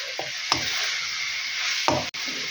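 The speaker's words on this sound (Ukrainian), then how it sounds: "Я оце все гарненько тут посмажу, а тоді собі тільки відберу цієї цибулі з моркою посмаженої" Onion and carrot fry in a pan with a steady sizzle, broken by a few soft stirring knocks and scrapes of a utensil, close and continuous without talk.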